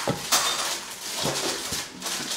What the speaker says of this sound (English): and bring our baking tray over here